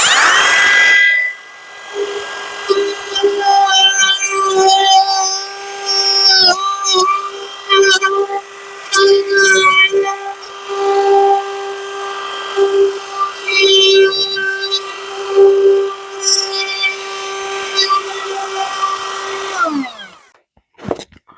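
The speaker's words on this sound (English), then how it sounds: "I've put a coving bit in the router, and I'm just going to run that around the inside edge" A router fitted with a coving bit cuts around the inside edge of a scrap-wood nightlight piece, giving a loud, steady high-pitched whine that wavers as it moves through the cut, then winds down at the end.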